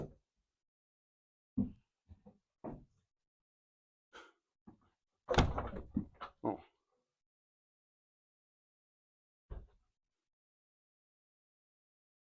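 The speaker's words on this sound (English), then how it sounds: "So as the door shuts, it goes against that." A homemade wooden door swings shut against a door stop, giving a handful of quiet, isolated thunks and knocks separated by silence, with one brief cluster of louder bumps in the middle.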